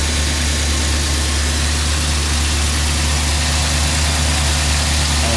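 A 1969 Mercury Monterey engine idles steadily just after an oil change with fresh oil circulating. It gives a loud, constant low rumble close by with no break, and nobody talks.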